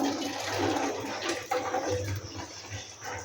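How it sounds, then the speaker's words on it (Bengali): Chicken stock water is poured through a strainer, making a splashing, gurgling pour with a few clinks from utensils, close and moderately loud. "জলটা ছেঁকে নেব।"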